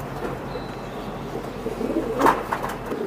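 Racer pigeons in a loft, with soft low cooing and a louder coo near the end over steady background murmur.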